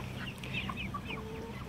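Free-ranging meat chickens, Cornish roaster broilers, cluck in a short, busy burst of overlapping calls over a steady low farmyard hum, with no talking.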